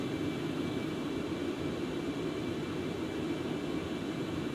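Steady, even roar of Concorde's jet engines as the throttles come back toward idle, a broad constant rumble heard from inside the aircraft with no distinct changes and no talking.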